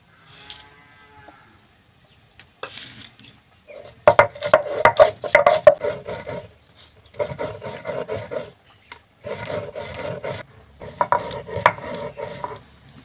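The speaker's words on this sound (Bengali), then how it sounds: "তার ফাঁকখানে যে মশলাটা ভেজে রেখেছিলাম মশলাটা গুঁড়ো করে নেব" Roasted spices for a sweet-and-sour elephant apple (chalta) chutney ground into fine powder, heard as loud gritty rasping bursts in several spells separated by short pauses, with no talking.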